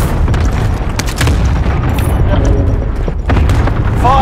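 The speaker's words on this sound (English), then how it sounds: "Allied cluster strike arriving." Cluster strike explosions in the video game Call of Duty: Modern Warfare, Resurgence mode: a loud, sustained barrage of deep overlapping booms and rumbling impacts that continues throughout, with a faint electronic tone near the end.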